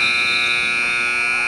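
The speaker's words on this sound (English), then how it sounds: "Buzzer went off first." A loud, steady electronic buzzer sounds continuously at a high school junior varsity girls' basketball game, a sustained tone marking the end of the quarter, heard alone without talk.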